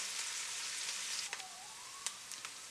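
Garlic, ginger and pickled Chinese vegetables sizzle in a hot pan for fish with pickled vegetables, giving a steady, close frying hiss with a few sharp pops and crackles.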